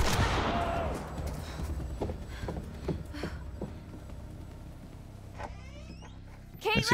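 A firecracker goes off in the horror video game The Quarry: a loud, close broadband burst followed by scattered crackling pops that fade over several seconds, with a sharp burst near the end.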